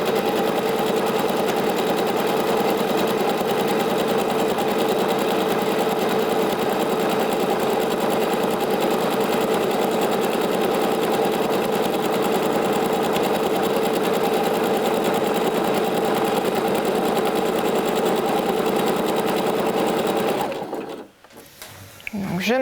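Domestic sewing machine running a long gathering stitch on fabric, a steady continuous whir for about twenty seconds before stopping abruptly near the end, close and prominent.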